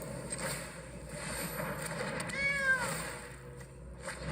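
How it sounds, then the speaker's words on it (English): A cat meows once, drawn out and moderately loud, over a steady noisy game background as the Charmed Stray card is played in MTG Arena. "We got a kitty cat."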